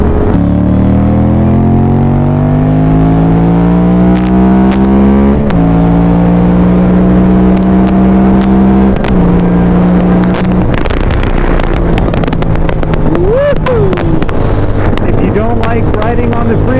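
Motorcycle engine at highway speed, a steady loud drone whose pitch climbs as the bike accelerates, with gear shifts and heavy wind buffeting throughout; no talking.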